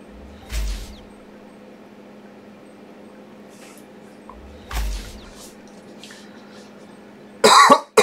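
A person coughs from vaporizer use, two heavy hacking coughs several seconds apart in a quiet room, then a loud, rough burst of coughing and throat clearing at the end.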